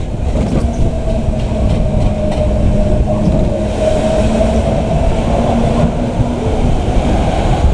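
Mine train roller coaster car running along its rails on the Alpen Express ride at Europa Park in winter, a steady loud rumbling roar with a sustained whine throughout, no talking.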